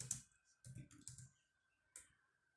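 Someone types text on a computer keyboard in a few quiet, short bursts of light clicking, with brief pauses between the keystroke clusters.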